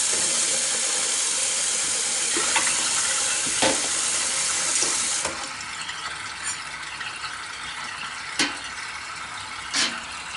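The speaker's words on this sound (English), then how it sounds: "So I'll just let out the water." Water being let out of a vat during raw cow's milk Manchego cheese making, a steady loud hissing rush that drops to a quieter trickle midway, with a few sharp clicks and knocks.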